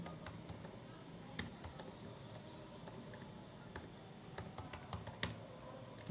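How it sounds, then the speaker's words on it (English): Computer keyboard being typed on at a desk, a quiet irregular run of soft key clicks against low room hum, with no talk. "so I'm going to type machine learning"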